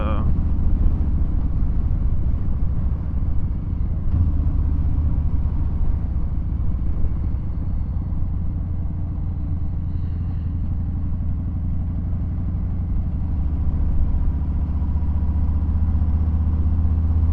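Car driving through a construction zone, a steady low road and engine rumble with a brief bump partway through, continuous and fairly loud.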